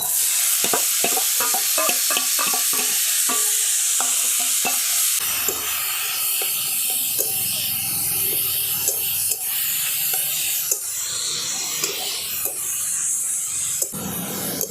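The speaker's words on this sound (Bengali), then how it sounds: "হালকা করে ভেজে নিয়েছি, এবার দিয়ে দিচ্ছি গ্রেট করে রাখা পটল।" Grated pointed gourd drops into a pan of lightly fried garlic and fries with a steady loud sizzle. A spatula scrapes and stirs it in rhythmic strokes during the first few seconds, and then the hiss carries on continuously.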